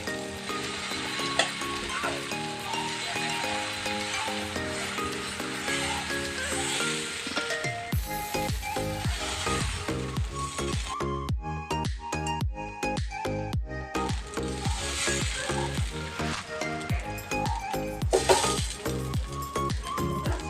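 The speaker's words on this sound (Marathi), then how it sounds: "डोसा आपला शिजतच आहे" Dosa batter sizzles on a hot griddle for a pav bhaji masala dosa, with a steady frying hiss and scraping and tapping as it is spread, running under loud background music.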